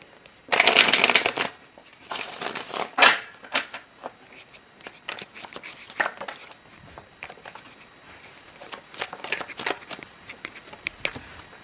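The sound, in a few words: shuffling tarot cards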